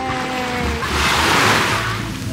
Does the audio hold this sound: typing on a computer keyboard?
no